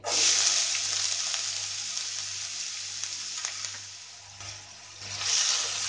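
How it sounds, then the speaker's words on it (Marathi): Onion fries in a little oil in a hot pan, a loud, steady close sizzle with bursts of hissing and occasional stirring scrapes, and no talking. "आता कांदो आमकां बरो तळसून घेवपाक जाय।"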